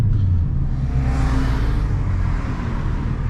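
A car pulls hard from a launch with a loud rising engine roar and rumble close up inside, holding strong for a few seconds before easing slightly, on a run made with race seats fitted.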